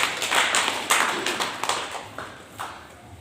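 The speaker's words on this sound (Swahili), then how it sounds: "Enyewe mmepiga makofi." A small church group claps in scattered, uneven bursts nearby, the clapping gradually fading and thinning out, with no talk.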